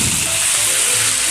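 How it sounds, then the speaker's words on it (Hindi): Small fish, pona mach, frying in hot oil in a home kitchen for a Bihari-style curry, giving a steady, dense sizzle that runs unbroken for the whole moment with no voices. "तो चलिए सेम हम इसको भी वैसे ही फ्राई कर लेंगे अच्छे से"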